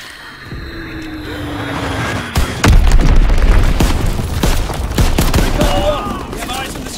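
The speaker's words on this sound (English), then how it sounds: "Dropping Azon bomb." Azon bombs blast amid gunfire in a Call of Duty: WWII multiplayer match, with a heavy boom around mid-clip followed by dense, continuous rattling shots and explosions that stay loud to the end.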